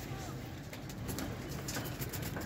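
Golden teddy pigeons for sale, heard as faint cooing and shuffling nearby, with scattered soft flutters under low background noise.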